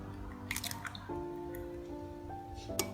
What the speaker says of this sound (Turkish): İçerisine bir tane yumurta kıracağım.